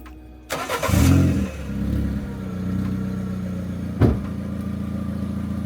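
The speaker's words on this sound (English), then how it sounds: "It's now time to start the car." A Ford Ka with a freshly repaired exhaust cranks and fires up, its engine catching with a loud surge, then settling into a steady idle with a slight exhaust blow, a sharp knock briefly audible partway through.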